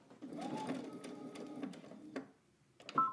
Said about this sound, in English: We're going to sew to our dot,